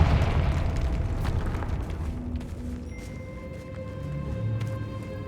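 A Confringo blasting spell explodes in the video game Hogwarts Legacy: a loud, deep boom that opens the moment, then rumbles and fades over several seconds, with faint musical tones lingering behind.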